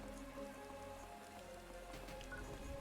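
Rain pours over the forest level of Phantasy Star Online 2 as an even, constant hiss of drops, mixed with faint sustained in-game music tones and no talking.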